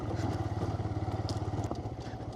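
A motorbike, not built for off-road riding, jolting over a rocky road near Pune, its engine thrumming steadily throughout with rattling clatter over the top, fairly close and continuous.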